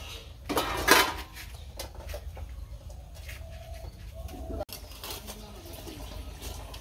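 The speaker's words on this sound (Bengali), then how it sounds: "ওপাশে দিদি মাজা ঘষা করতেছে" Dishes being scrubbed and washed at a home, with clattering of pots and utensils, strongest in a sharp burst near the start, then softer scraping and clinks, while pigeons coo nearby and faint voices sit in the background.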